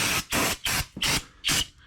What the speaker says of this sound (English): I just got to spray, basically clean off my fingerprints and all the grease